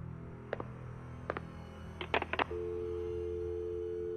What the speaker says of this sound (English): Did you just hang up the phone?